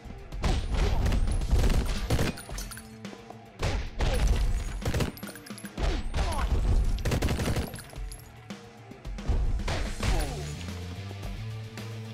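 Dense, sustained gunfire from many weapons in the video game Mr. Shifty, with rapid volleys and crashing impacts that run almost nonstop and loud, easing off briefly near the end.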